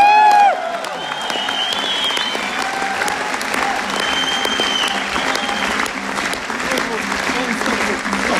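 An audience at an aitys, a Kazakh improvised poetry duel held in Karaganda, breaks into sustained applause. It follows a brief voice at the start and stays full and steady, with scattered sharp claps standing out.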